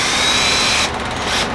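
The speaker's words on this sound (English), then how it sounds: "We're going to take a small drill bit." Power drill boring a small starter hole at the top of a steel drum for a smoker, a steady loud high-pitched whine that shifts pitch partway through as the bit bites, with no talking.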